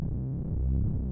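Low cinematic synth drone with slowly modulated FM, a dense sustained bass-heavy tone that swells and shifts texture steadily throughout, with no talking.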